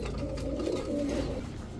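Jabra pigeons coo in a low, throaty, continuous warble, heard close and steady with no voices.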